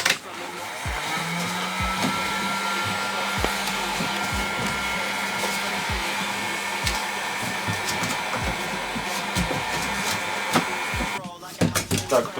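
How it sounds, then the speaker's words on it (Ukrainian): A hair dryer blows steadily at close range, heating a car headlight to open it, its whirring hum constant for several seconds before cutting off near the end amid clattering handling noises. "Основне, щоб фен не дув на саму фару"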